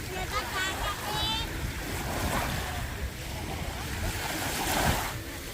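Surf rolls and washes onto the shore at Bang Saen Beach in Thailand, a steady wash of waves mixed with gusty wind buffeting the microphone and faint voices nearby.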